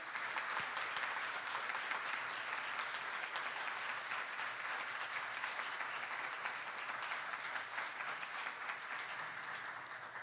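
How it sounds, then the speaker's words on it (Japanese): Sustained, dense applause from a large audience at a press event welcoming director Makoto Shinkai for his film Suzume, steady and even throughout with no voices over it. "本当に大きな拍手をありがとうございます。"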